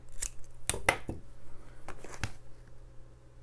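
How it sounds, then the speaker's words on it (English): Scissors snip off thread while making a no-sew journal, several sharp close crisp cuts in an irregular rhythm, followed by quieter small handling sounds. "I need to snip this off though"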